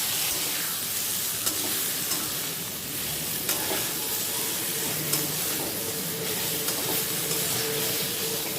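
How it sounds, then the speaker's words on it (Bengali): Kul (jujube) chutney cooks in a pan with salt and a little turmeric, giving a loud, continuous hissing sizzle, with faint spoon scrapes and stirring knocks recurring every second or so. "ভালো করে নেড়ে চেড়ে নেব"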